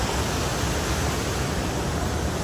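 The dangerous, fast-flowing river at Sundarijal rushes loudly and constantly, a dense roaring wash of water with no pauses.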